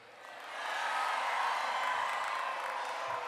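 A crowd at an event backing school choice cheers and whoops, a broad roar that rises after a moment and holds steady, with clapping mixed in.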